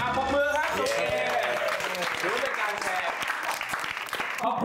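A studio audience on a Thai TV game show applauds at the end of a game. The clapping is full and continuous throughout, with voices mixed into the applause.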